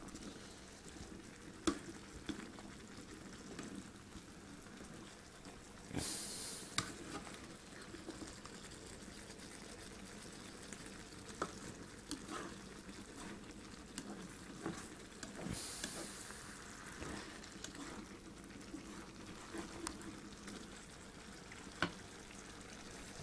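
Minced beef with mixed beans, tinned tomatoes and red pepper cooking in a pan on a ceramic hob, giving a low, steady bubbling sizzle with occasional stirring clinks, fairly quiet throughout.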